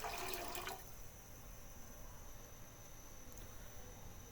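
Water is poured into a pot of lentils while cooking daal, a brief splashing gush for under a second that settles into a quiet, steady watery hiss.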